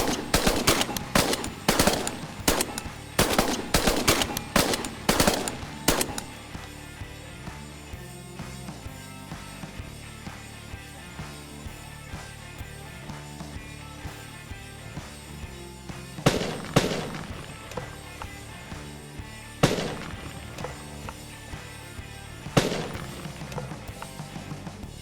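Rapid volley of loud shotgun blasts fired at a flock of pigeons during an Idaho hunt, a dense burst of overlapping shots for several seconds, then a few isolated, spaced reports amid faint outdoor background.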